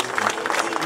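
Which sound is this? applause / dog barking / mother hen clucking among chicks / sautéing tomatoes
applause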